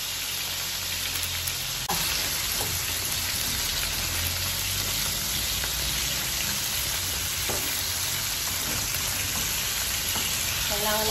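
Chicken sautéing in a pan sizzles and crackles steadily throughout, with occasional stirring clatter and a few faint voices in the background.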